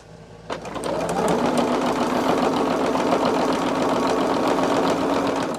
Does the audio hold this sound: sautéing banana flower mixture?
no